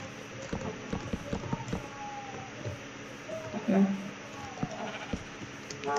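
Sheep in the video game Minecraft bleat several times under a player's excited talking, with short game bleats and clicky footstep-like sounds mixed through the lively chatter.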